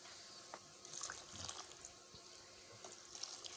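Water pours into risol wrapper batter in a mixing bowl, a quiet, steady trickle with small splashes and drips, heard alone up close.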